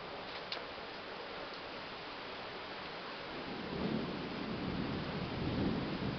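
Heavy rain pours during a thunderstorm, a dense steady hiss with a low rumble that swells toward the end, heard indoors and close, with no voices.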